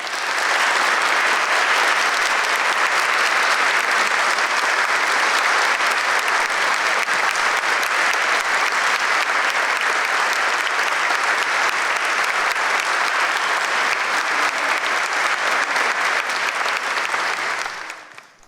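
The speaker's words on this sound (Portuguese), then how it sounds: "para quem eu peço uma salva de palmas" Steady, dense applause from an audience at a court ceremony honoring the court president carries on strongly for about eighteen seconds before trailing off abruptly at the very end.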